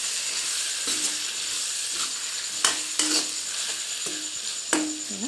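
A spoon scrapes through chicken and potatoes frying in a pan over medium-low gas, a low steady sizzle broken by several distinct stirring scrapes and knocks at irregular intervals, no talk.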